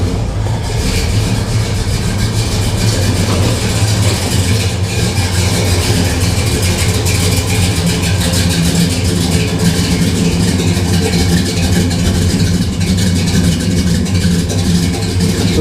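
A 1968 Chevelle SS with a 3-inch Flowmaster Super 40 American Thunder exhaust and long-tube headers idles steadily after a cold start, a deep, continuous rumble heard close and loud throughout with no talking.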